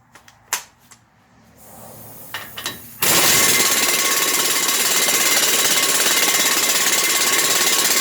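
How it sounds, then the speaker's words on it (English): Air ratchet tightening a 36 mm wheel hub nut on a 2004-2008 Ford F-150, preceded by a few metallic clicks and taps, then a loud, close, sustained rapid hammering buzz. "And we'll tighten that down. I like to use my air ratchet."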